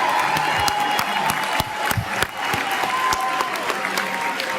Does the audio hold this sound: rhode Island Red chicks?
no